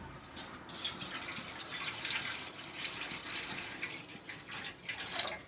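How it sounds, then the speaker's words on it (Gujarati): Water pours steadily into a kadai set on a lit gas stove in a home kitchen, a continuous splashing flow with brief brighter surges, close and alone, with no talking. "આપણે આ કડાઈમાં પાણી મેલશું।"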